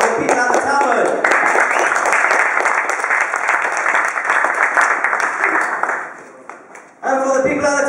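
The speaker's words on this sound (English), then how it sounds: "A big round of applause for the people at the tavern." Pub audience at a stand-up comedy gig in a tavern gives a loud round of applause with cheering, sustained for about six seconds before dying away, then a voice speaks.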